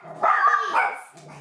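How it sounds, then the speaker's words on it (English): Dogs barking in a short burst of a few sharp, close barks and yips, fairly loud, with a quieter whine trailing off at the end. "Dogs are barking."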